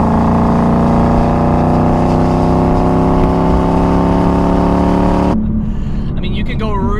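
A Ford Mustang GT S550 with its Coyote V8 roars loudly and steadily under hard acceleration, its pitch holding strong before the engine note drops suddenly and fades near the end.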